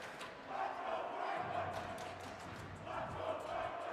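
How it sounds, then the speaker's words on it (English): Crowd of hockey fans in the bleachers under the press box at a boys' varsity high school hockey game, cheering and shouting loudly and continuously, with surges of yelling and a low rumble beneath. "Can hear Rattle City cheering on their team."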